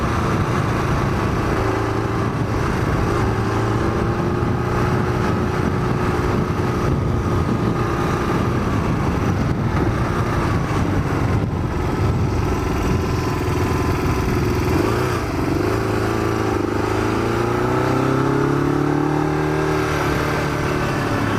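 Custom Yamaha XJ600 motorcycle riding around town, a loud continuous engine drone with rising and falling revs and gear changes, heard close with wind rush and no talking.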